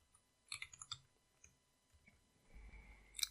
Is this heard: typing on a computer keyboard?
yes